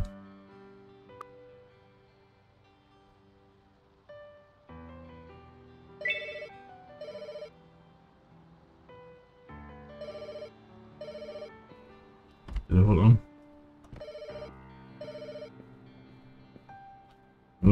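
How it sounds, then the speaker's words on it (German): Synthesized ringtone melodies from a telephone in the video game Pets Hotel chime in repeated phrases over a quiet background, with a brief loud burst of noise partway through. "Nur das klingende Telefon annehmen."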